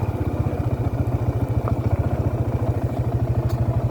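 A motorcycle engine idles at a roadside stop, a steady, loud, close rhythmic putter of low pulses continuing evenly throughout with slight mechanical clatter on top.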